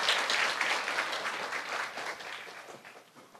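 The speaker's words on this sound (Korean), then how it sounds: "큰 박수로 총장님을 맞이해 주시기 바랍니다" A large hall audience at a cyber university's entrance ceremony applauds to welcome the university president. The clapping is dense and continuous, slowly tapering over a few seconds.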